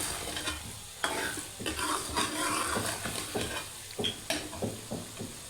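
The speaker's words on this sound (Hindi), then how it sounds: "उसे अच्छे से मिक्स कर दीजिएगा, सालन नीचे ना लगे" A spoon scrapes and stirs egg and onion curry (salan) in a hot pan, steady sizzling frying underneath with repeated clinks and scrapes against the metal, close and continuous with no voices.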